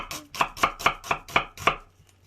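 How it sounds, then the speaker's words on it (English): A knife chopping onions on a board: seven quick, evenly spaced, crisp chops, close and clear, then quiet. "Can you chop the onions like Daddy, like that?"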